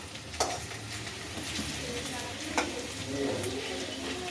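Ridge gourd frying in a pan after potatoes, a continuous low sizzle with a few sharp clicks of a spatula against the pan, close and fairly quiet.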